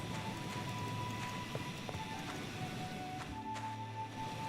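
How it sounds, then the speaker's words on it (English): Horse hooves clip-clop steadily in a video game, a regular plodding rhythm carried over a constant bed of ambient game sound and a soft tonal hum, with no one speaking. "we have a horse named Hylia"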